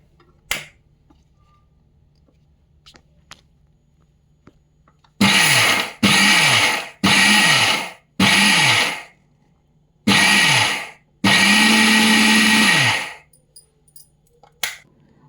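A mixer grinder jar run on pulse mode grinds semolina and sugar, giving six loud whirring bursts of about a second each, the last one longer, separated by quiet pauses.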